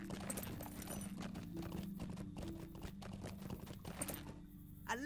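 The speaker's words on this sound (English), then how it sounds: "Might actually ride the fast horse over to Mickle Delving." A fast horse's hooves clip-clop at a steady trotting rhythm while riding in the Lord of the Rings Online game, close and continuous, ending with a brief thump.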